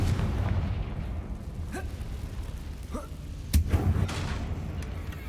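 A Confringo fire spell in Hogwarts Legacy goes off amid a low, rumbling game soundscape, with a sharp burst and boom about two-thirds through, fairly faint overall.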